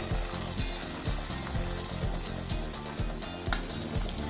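Hot tempering crackles and sizzles loudly as it meets siru keerai greens, a dense frying hiss with rhythmic bubbling pulses throughout, no talk.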